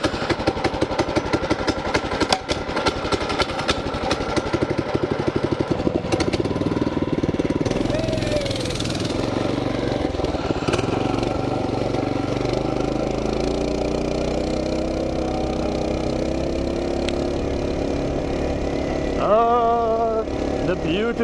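A small mini bike engine running while being ridden, a loud buzzing rattle that revs and putters unevenly, rising and falling in pitch, with talking mixed in over it.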